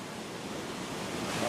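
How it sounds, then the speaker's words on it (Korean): Rushing water of Banias waterfall in Israel, a broad steady roar of falling water that swells slightly louder toward the end. "이스라엘의 젖줄 바니아스 폭포다."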